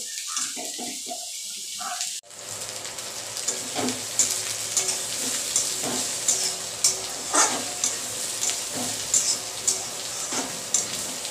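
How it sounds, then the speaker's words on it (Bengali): Onion, cauliflower and potato fry in a pan with a steady sizzle, broken by repeated scraping stirs at an uneven pace. A few short taps come first, then a sharp jump into louder hiss. "পেঁয়াজের সাথে ফুলকপি আলুটাও ভাজা হয়ে যাবে"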